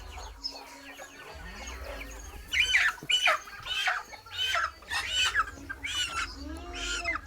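Young desi rooster being caught by hand for weighing on a poultry farm, squawking in loud repeated bursts amid clucking from the surrounding flock.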